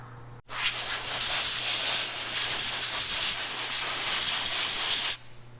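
Cleaner sprayed onto a Dodge Ram rear axle to remove excess oil: one steady, loud aerosol hiss lasting about four and a half seconds, starting abruptly and cutting off cleanly over a faint background hum.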